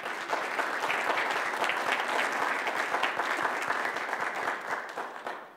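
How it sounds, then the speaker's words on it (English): Church congregation at a Sunday service gives a warm round of applause to the standing Scout and Girl Scout troop members: thick, continuous clapping from many hands nearby, holding steady before tapering slightly at the end. "give them a warm round of applause"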